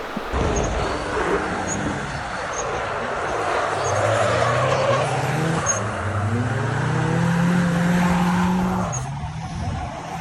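A Nissan 240SX with a KA24DET engine drives laps on a race track, its engine droning steadily with rising and falling pitch and some tire squeal, loud and continuous throughout.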